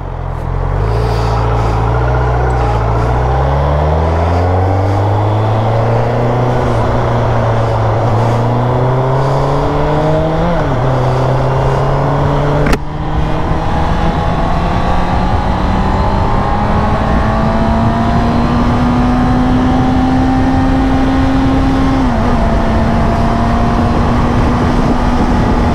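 A motor vehicle engine holds a steady cruising speed during a sputtering test, its droning hum loud and continuous with slow, gradual pitch rises and one brief dip, no voices over it.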